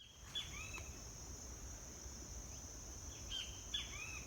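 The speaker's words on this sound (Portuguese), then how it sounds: "tem um bem-te-vi, Pitangos sulfuratus, o nome científico, cantando bem aqui em cima de mim" A great kiskadee gives a few short, bright calls, spaced apart, over a constant high insect drone in a quiet outdoor setting.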